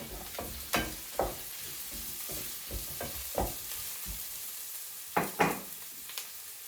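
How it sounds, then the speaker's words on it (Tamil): Dried red chillies fry in a pan with sautéing onions for a jackfruit sundal, the oil crackling steadily while a spoon scrapes and stirs in several sharp, close knocks and clatters. "நான் இப்போ காஞ்ச மிளகாயை போட போகிறேன்."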